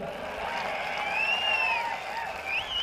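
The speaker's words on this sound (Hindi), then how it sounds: "देखो महिलाएं ताली बजा रही है, पुरुष ताली नहीं बजा रहे।" Women in a crowd clapping at a Rahul Gandhi public rally; a steady, somewhat distant patter of applause with a few whistles rising over it.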